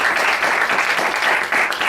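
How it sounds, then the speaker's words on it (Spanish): A steady burst of audience applause welcoming an invited author at a book event, with dense, even clapping that fills the room at a fairly loud level without a break. "vamos a dar un aplauso a Victoria, ¿no?"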